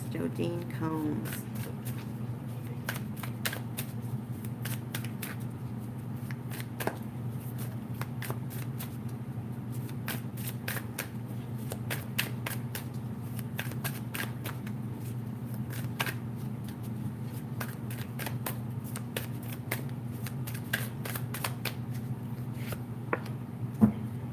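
Tarot cards shuffled in a steady run of crisp riffling flicks, close and continuous, over a constant low hum and with talk throughout.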